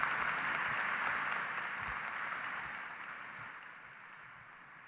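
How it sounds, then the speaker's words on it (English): Graduation-ceremony audience applauding Computer Science, Engineering and Electrical Engineering graduates at the University of Toledo College of Engineering fall commencement: a broad, distant wash of clapping that slowly fades. "So please join me in a round of applause and congratulating our Computer Science and Engineering and Electrical"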